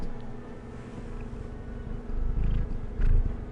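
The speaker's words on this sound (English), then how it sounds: "Can you hear the cat purrs, y'all?" A cat purrs close to the microphone with a low, rumbling, continuous drone that grows louder and more pulsing toward the end, with no talking over it.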